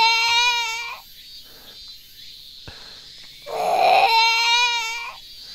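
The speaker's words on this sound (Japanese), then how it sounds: "泣き声が道の向こうから聞こえてきた" A character in the visual novel game Summer Pockets cries loudly, with wailing sobs in two long bursts separated by a quieter gasping, sniffling stretch, all close and alone without other talk.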